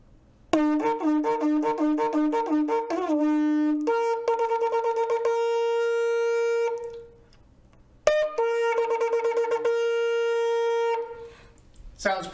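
A shofar sounds the teruah, a run of short, clipped staccato blasts followed by longer sustained horn tones, loud and close, repeated in two phrases with a brief silence between them.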